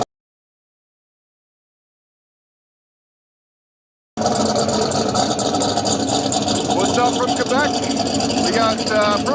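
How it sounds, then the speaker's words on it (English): Small-tire drag racing Camaro with a huge 118 mm turbo, its engine rumbling steadily after four seconds of silence, mid-distance and sustained, with a commentator talking over it. "it's got like 118 millimeter turbo, I think it's that big, something crazy. In the left lane in this Camaro."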